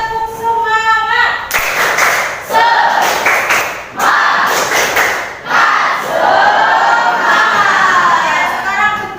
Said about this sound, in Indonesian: Kita ulang kembali, tepuk semangat.